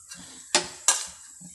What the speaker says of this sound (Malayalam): എണ്ണ ഒഴിച്ചു കൊടുത്ത് നമുക്ക് ഈ സോയാബീൻ ഒന്ന് വഴറ്റിയെടുക്കണം